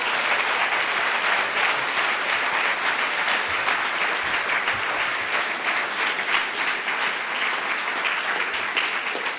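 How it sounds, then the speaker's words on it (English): An audience at a Saatchi Gallery debate on art fairs gives sustained, dense applause, many hands clapping loudly and evenly for several seconds without pause. "So you all deserve a great, great applause"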